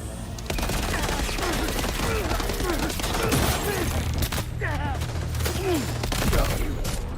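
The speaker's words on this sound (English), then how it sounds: "I got someone shooting." Gunfire in Death Stranding, a rapid burst of shots followed by scattered cracks under a steady game soundscape with a low hum, and someone talking over part of it.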